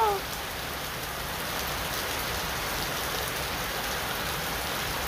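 Heavy, steady rain pours down over an outdoor stadium construction site, a dense continuous hiss throughout with no voices.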